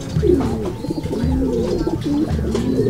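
Pigeons at a pigeon fancier's loft in Cabiao, Nueva Ecija, coo steadily and close by, their low throaty calls overlapping in a continuous murmur with no pauses.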